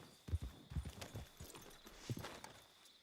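Horse hooves clip-clop in a video game, a few distinct close thuds in an uneven walking rhythm over a faint steady background hum.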